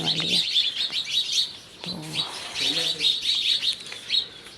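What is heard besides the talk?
birds chirping in the evening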